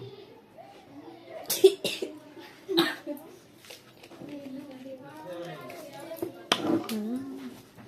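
A young girl coughing hard, several sharp separate bursts spread across the moment, with quiet talk and some murmuring between the coughs.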